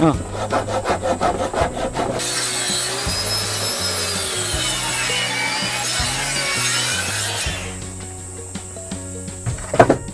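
Steady back-and-forth strokes of a hand saw cutting through pallet wood, close and continuous, with a few sharper scrapes at the start and end.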